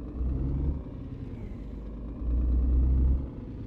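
Truck driving on the road in the game On The Road, a low, steady engine rumble that swells twice in deep throaty surges, heard alone without talk.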